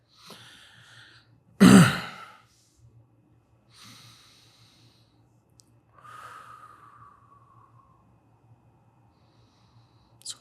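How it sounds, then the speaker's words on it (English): Slow breathing during a guided somatic relaxation exercise: one sharp, loud nasal exhale early on, followed by a few softer, airy breaths spaced seconds apart, close to the microphone in an otherwise quiet room. "we're going to start breathing slowly, in and out"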